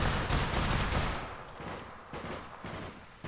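Rapid gunfire in the online shooter APB Reloaded, a dense burst of shots that thins into scattered rounds over a few seconds, moderately loud.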